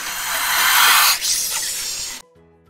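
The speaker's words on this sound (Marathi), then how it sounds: "सापाचा फुत्कार" A snake hisses in a long, loud, airy rush that swells, dips briefly, then tails off before cutting to near silence.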